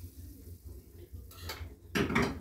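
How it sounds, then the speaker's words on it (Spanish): Meat frying in a pan and being stirred and broken up with a small spoon, scraping and clinking against the metal with bursts of sizzle, close and fairly quiet. "estamos friendo la carne"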